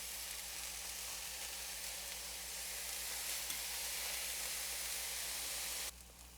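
Lion's mane mushrooms browning in a hot pan make a steady, close hiss of sizzling oil that holds evenly, then drops abruptly quieter near the end.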